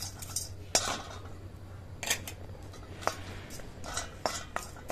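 Biryani masala spices are stirred and roasted in a hot pan, giving light scattered clinks and scrapes of a utensil against metal, quiet and close with no talk.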